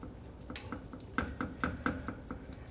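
A spatula taps and scrapes against a pan while food cooks, a quiet run of evenly spaced clicks close by.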